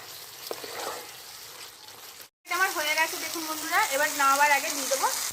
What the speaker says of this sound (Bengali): এটাকে একদম ভাজা ভাজা মতো করে নেবো আর একটু জল ছিটিয়ে নেবো